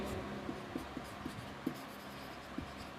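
Chalk or marker writing on a board during an English grammar lesson, a soft steady scratching with a few brief taps and strokes, close and fairly quiet with no talk.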